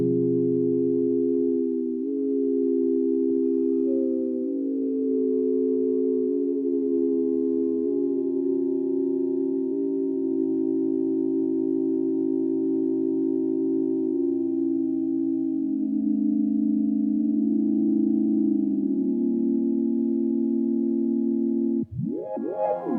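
An Akai AX80 synthesizer plays an aleatoric pad of sustained tones that drift and step slowly between pitches, steady and alone, ending in a brief sweep.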